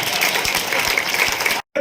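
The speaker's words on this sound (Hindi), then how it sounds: "एक बार तालियों से आप बुलाओ तो अच्छा लगेगा" An audience at a public ceremony in Datia applauds in a steady, crowded burst of clapping that stops abruptly after under two seconds.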